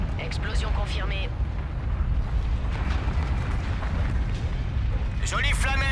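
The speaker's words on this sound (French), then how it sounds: "Explosion confirmée." A sustained, rumbling explosion roars continuously in the Call of Duty: Infinite Warfare video game, a loud dense blast under brief radio chatter and crackling bursts near the end.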